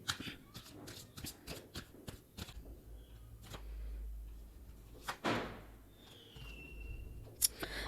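A deck of tarot cards being shuffled, with quick riffling bursts in the first half and a few soft thumps and handling noises later, close and fairly quiet with no talk.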